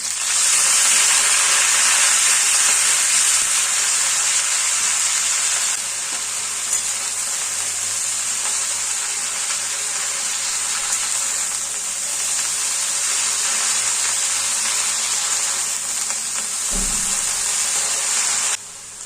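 Bottle gourd greens hit a hot pan with green chillies already in, giving a steady, bright frying sizzle that runs almost the whole time, with a brief low clunk near the end before it cuts off.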